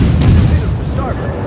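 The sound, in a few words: torpedo hits on ship in World of Warships video game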